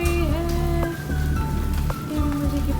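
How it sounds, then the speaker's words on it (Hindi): Rain pouring down outdoors in rainy weather, a loud, steady wash of patter, with some wavering tonal sounds layered over it throughout. "और बाहर बारिश हो रही है।"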